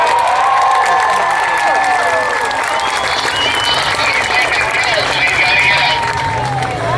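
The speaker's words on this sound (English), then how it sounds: "How about a round of applause for that driver right there?" A crowd at the Comber Fair demolition derby in 2022 claps and cheers loudly and steadily for a driver, with shouts and whistles mixed into the sustained applause.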